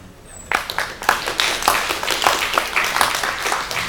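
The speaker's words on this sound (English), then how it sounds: "So round of applause for Elena." Applause from a panel audience at an event about rising stars from Ukraine, starting after a quiet half second as a burst of many hands clapping at moderate volume and continuing steadily to the end.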